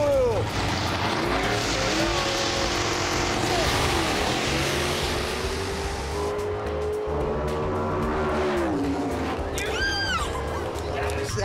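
Camaro and Subaru race cars at Bandimere Speedway, engines roaring loud and steady with tires squealing, a sharp skid sweeping near the end, while voices talk over the din.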